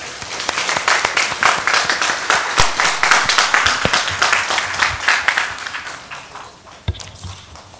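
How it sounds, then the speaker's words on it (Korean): Congregation applause at an Easter dawn church service: many hands clap in a dense, lively burst that swells, holds, then gradually thins and fades out. "하나님께 영광의 박수 올리겠습니다."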